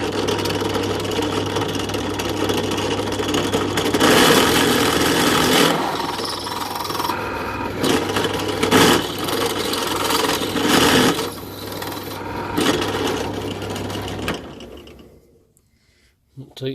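A mini lathe with a loose, untightened chuck spins steadily in a home workshop during a matchstick powder cannon build, a continuous motor hum with bursts of rattling and filing-like noise, winding down near the end.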